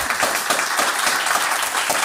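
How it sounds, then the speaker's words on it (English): An audience at a table discussion with four creatives gives a round of applause, a dense, even patter of many hands clapping throughout, fairly loud and unbroken. "I would like one last round of applause for our designers."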